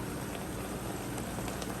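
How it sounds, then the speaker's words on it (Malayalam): Oil poured into a pan of avial, a mixed vegetable dish, brings a dense, even sizzle like heavy rain, close and steady for the whole moment with no voices. "നമുക്ക് ഇച്ചിരി എണ്ണയൊക്കെ ഒഴിച്ച് കൊടുക്കാം."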